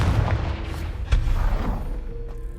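An explosive Confringo spell blast in the Hogwarts Legacy video game: a single sharp boom bursts out about midway, over a dense, rumbling game soundscape.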